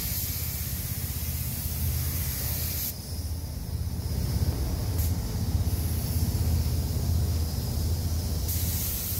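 A spray gun lays a wet first coat of primer over body filler on a car panel, a steady loud hiss that cuts off briefly and resumes, close and continuous without speech.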